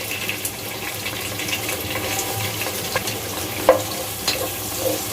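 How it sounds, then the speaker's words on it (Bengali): Chopped onions fry in a pan with bay leaves, cardamom and cinnamon while shahi chicken pulao is being made, giving a steady close sizzle with occasional scrapes and clinks of a stirring spoon, without any talking. "পেঁয়াজটা খুব একটা লাল করা লাগবে না, একটু ভেজে নিলেই হবে।"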